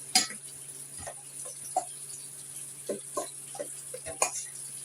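Cornbread dressing is stirred and mixed with broth in a kitchen, soft wet scraping and squelching strokes recurring irregularly under a steady appliance hum, with a few louder utensil knocks and a voice speaking briefly.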